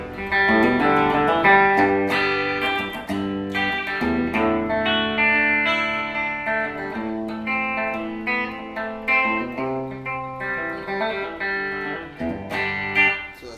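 Electric guitar with humbucker pickups, modelled as a Les Paul on a JTV-59, played clean with a little reverb: strummed chords and ringing notes that sustain and overlap, loud and close with no voice.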